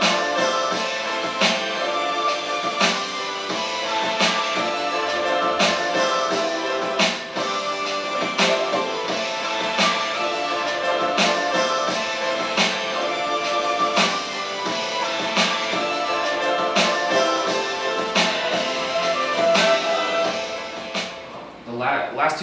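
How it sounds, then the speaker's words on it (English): Hip hop beat with quick hi-hats panning left to right and delay effects, loud and steady over about twenty seconds with a regular drum pulse and layered melodic sample, no voice over it. "I added some additional hi-hats, do like a quick hi-hats that pan left to right"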